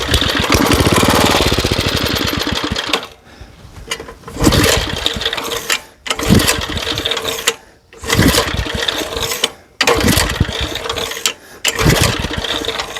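Small gasoline garden engine being started after refueling, revving loudly in several close bursts that cut out with brief silences between, catching and dying again.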